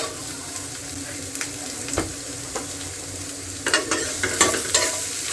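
Ginger and garlic frying in a pan for mushroom gravy, a steady close sizzle with occasional stirring clinks and scrapes, growing busier toward the end, with no talk.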